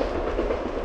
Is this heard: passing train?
yes